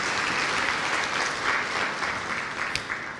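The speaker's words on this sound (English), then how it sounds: "Give yourself a round of applause," A youth forum audience at a TVET summit breaks into brief, fairly soft applause, a continuous wash of clapping from a sizeable crowd heard at some distance.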